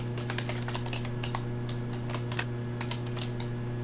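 Keys being typed on a computer keyboard while entering R code, an irregular run of close, crisp clicks over a steady low electrical hum, with no talking.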